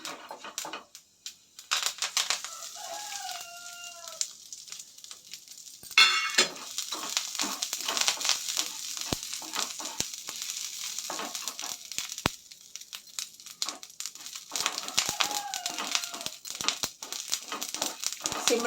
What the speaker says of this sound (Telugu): సిమ్లో పెట్టుకొని సన్నగా వేపుకోవాలి